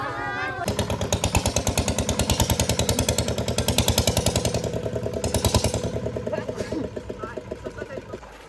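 A motor boat ferrying people to a temple during Dahi Handi festivities pulls in, its engine chugging loudly in a steady rapid beat, then slowing into separate thumps as it idles, with voices and clatter in the background.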